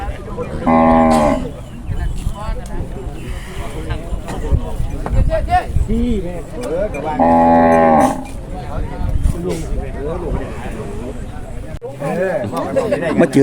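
Water buffaloes lowing at a livestock market in Chaiyaphum, Thailand, with two loud, drawn-out moos standing out among steady crowd chatter and market bustle.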